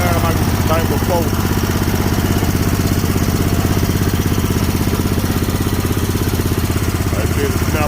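A Snapper Pro 48-inch zero-turn lawn mower engine runs steadily and loudly close by, a constant rough drone with no change in pitch throughout.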